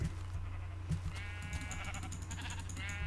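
Sheep in Minecraft bleat in a few short, nasal calls over a steady low game hum, fairly close and moderately loud.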